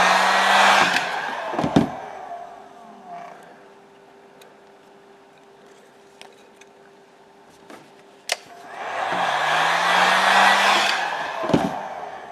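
Heat gun warming vinyl wrap on tile: a loud, close blowing roar runs for about two seconds, gives way to near quiet with faint ticks, then roars again for several seconds.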